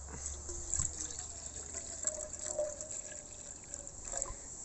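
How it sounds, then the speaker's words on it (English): Water trickling and splashing steadily into a container at an Australian bush camp, a continuous watery wash with faint background hiss and no talking. "Chuck some water in and get that"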